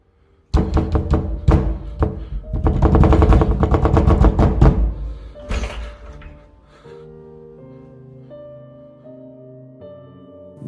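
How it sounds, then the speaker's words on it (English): A bedroom door banging violently in a reputedly haunted house: a quick volley of hard, loud thuds, then a dense rattling barrage, then a fading tail with sustained tonal sound after the banging stops. "As he draws nearer, the bedroom door starts banging violently."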